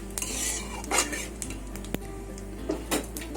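A ladle rubs radhuni spice around a pan, making scraping strokes and sharp metallic clinks against the cookware over a faint sizzle, close and intermittent.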